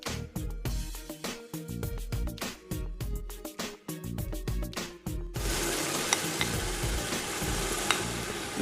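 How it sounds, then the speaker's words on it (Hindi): Onions fry in a pan with garlic-ginger paste, first with rhythmic scraping stirs over the sizzle, then a loud, dense, continuous sizzling hiss as the paste hits the oil. "इसको हम थोड़ा और भूनेंगे।"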